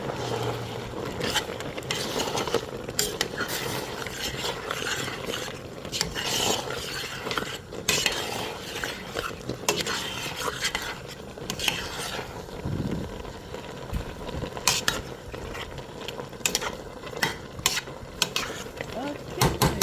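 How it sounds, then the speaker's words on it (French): A spoon stirs okra sauce with palm oil, meat and shrimp in a cooking pot, giving a continuous scraping and clinking of utensil against metal, moderately close, with occasional sharper knocks. "Maintenant, je vais bien mélanger."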